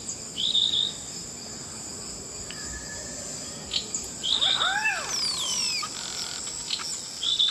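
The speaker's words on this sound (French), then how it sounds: "À l'aube, c'est l'explosion des chants d'oiseaux." Birds sing and call at dawn in a forest canopy. Bright chirps and sweeping whistles repeat against a constant high insect drone, with a burst of several overlapping calls near the middle.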